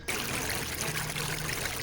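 Steady flowing water in a dark horror setting, a continuous broadband rush like a stream or pouring trickle, close and fairly loud with no voices.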